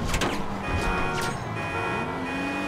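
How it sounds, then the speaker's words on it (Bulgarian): Several car alarms blare through city streets in a chaotic modded GTA driving game, with steady tonal beeping and wailing layered over engine rumble and crash noise. "също сега ще чуваме аларми от всички коли в града"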